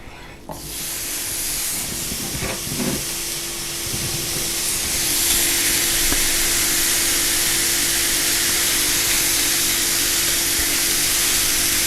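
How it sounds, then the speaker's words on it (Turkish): A loud, continuous hiss and crackle of thin-sliced meat for döner sizzling in a hot frying pan, building in intensity and holding steady without talk. "Şimdi bu etleri kızgın tavaya atıyorum."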